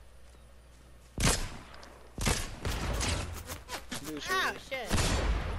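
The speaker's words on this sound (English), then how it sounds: "Someone shot me." Several sharp gunshots crack out in Fortnite, spaced across a few seconds, with a startled voice speaking between them.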